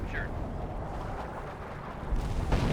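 Rocket artillery barrage in Company of Heroes 1: a steady, dense rumble of distant explosions that thickens toward the end with heavier low booms.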